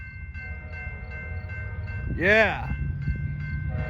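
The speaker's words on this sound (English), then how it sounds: "here comes San Joaquin train 717" An Amtrak San Joaquin passenger train, number 717 heading north, rolls past with a low steady rumble. Near the middle a strong horn-like call rises and falls. A single short word is spoken.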